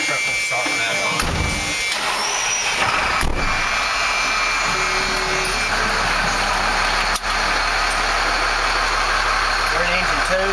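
A fire engine's motor idles with a steady low rumble throughout, joined by intermittent mechanical clatter and a brief sharp noise, while people talk nearby over it.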